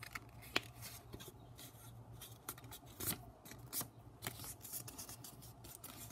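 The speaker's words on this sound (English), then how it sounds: "now I'm just gonna take my index card and I'm gonna fold it in half" A paper index card torn from a notepad is folded in half by hand, giving a few quiet crinkles and sharp creasing snaps over a low steady hum, close to the listener.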